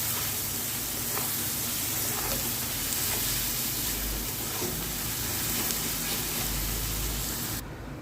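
Steady loud sizzling of capsicum and onion being stir-fried in a pan, a continuous frying hiss with faint stirring scrapes and no talking.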